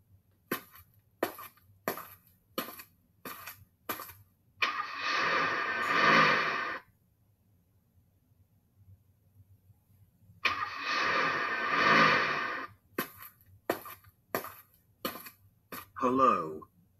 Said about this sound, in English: Let's get in the car now and get going.